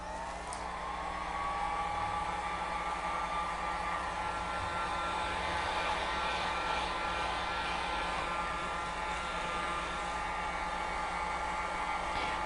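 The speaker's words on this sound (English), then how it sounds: "Now I'm going to hit this with my heat gun just a little bit to make sure that it's good and dry before I start putting the aging wax on." A heat gun blows steadily and loudly for the whole stretch, drying an upcycled jar before aging wax goes on, with a constant whooshing hiss and no break.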